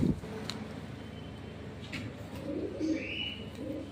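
Pigeons for sale at a pet shop coo softly in low repeated murmurs, with a faint chirp and light background shuffling, no one speaking.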